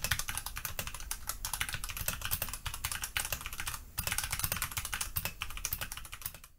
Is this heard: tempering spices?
no